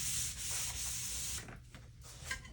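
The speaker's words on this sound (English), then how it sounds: "now we're just going to wipe it down. Make sure there's nothing left over still on the wood." An old cotton rag rubs across a wooden console table surface, a soft steady scrubbing swish that fades after a second or so into quieter intermittent strokes, close and alone.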